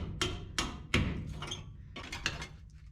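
Heavy hammer blows strike rusted bolt heads on the floor of a 1959 International B100 truck, several loud, sharp metallic impacts spaced unevenly and close by, with a short scraping pause between the groups of hits.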